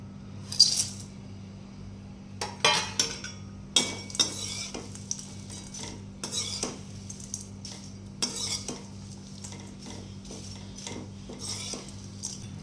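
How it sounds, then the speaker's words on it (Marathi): Onion roasting in a small amount of oil in a pan for a chilli garlic masala, with intermittent scraping and stirring clinks of a spoon against the pan over a faint steady sizzle, fairly close. "आता थोड्याशा तेलामध्ये आपल्याला हा कांदा भाजून घ्यायचा आहे."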